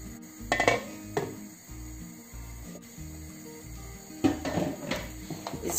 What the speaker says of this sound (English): Stir it, cover it, and let the tomatoes and the onion cook.